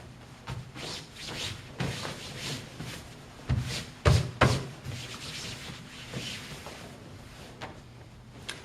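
A karate gi being smoothed flat by hand to remove creases, giving soft fabric rubbing and brushing strokes with a few louder pats and thumps, close by and alone.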